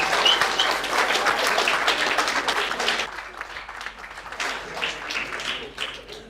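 A crowd at a community gathering applauds Samira and the community camp, with dense clapping that stays loud for about three seconds before thinning into scattered claps and murmuring voices.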